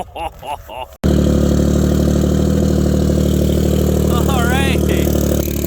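Loud, steady engine roar of a car cruising at high speed toward 98 mph, droning continuously with a low harmonic hum; a short burst of talk precedes it and a faint squeal rises briefly later.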